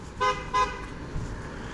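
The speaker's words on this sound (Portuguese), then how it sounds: "Os carros tem que buzinar aqui" Two short car horn toots sound in quick succession on a poorly lit street, Rua Liberal, where drivers honk to warn others and avoid crashes, followed by quieter traffic background.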